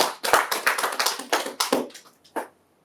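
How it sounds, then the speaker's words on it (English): Small audience clapping in a room, a short burst of scattered hand claps that quickly thins out to a few final claps and then silence. "You guys are going to give yourselves a round of applause."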